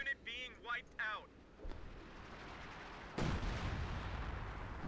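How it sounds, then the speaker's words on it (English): An artillery barrage in a video game lands as deep, rumbling explosions, one faint then a louder sustained blast, with a voice talking briefly beforehand. "Some sort of artillery coming in. I think that might be incendiary artillery."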